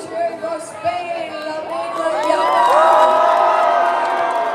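Spain supporters at an outdoor World Cup watch party in Nathan Phillips Square, Toronto, shouting and whooping, the cheer building from scattered voices into a louder sustained crowd roar.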